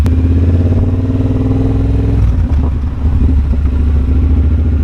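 A loud Triumph motorcycle engine idles and revs close by with a steady rumbling throb, the pitch dipping briefly midway before settling back, during a Distinguished Gentlemen's Ride in Edinburgh.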